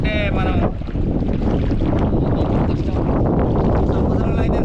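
Strong sea wind roars over a fishing boat, a loud, continuous buffeting rush that hits the microphone hard and steadily for the whole stretch.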